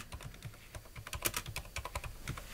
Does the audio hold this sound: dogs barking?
no